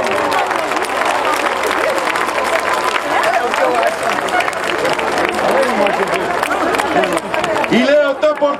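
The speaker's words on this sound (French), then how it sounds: "Vous pourrez l'applaudir très fort" A crowd at a radio station festival applauds a mayor, with sustained, dense clapping and scattered cheers mixed with crowd babble over the whole stretch.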